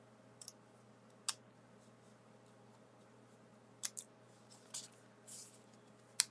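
Snips cutting through card, giving a handful of sharp, quiet clicks and snaps at irregular intervals over a faint steady hum.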